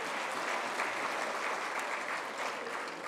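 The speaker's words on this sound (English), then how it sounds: "can we please give them another round of applause?" Audience applause at the CAPA 2019 opening ceremony in Kigali, a steady, dense wash of clapping from a large crowd that carries evenly from start to finish with no voices on top.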